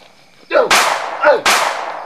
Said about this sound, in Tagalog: Bakit may putok ng baril?